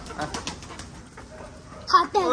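Soft pigeon sounds and a brief flutter of wings near the end, mixed with people talking close by.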